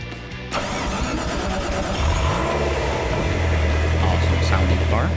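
In the Gran Turismo 5 video game, a Mercedes SL65 AMG car engine starts up and settles into a loud, continuous rumble that rises in revs over several seconds, heard close.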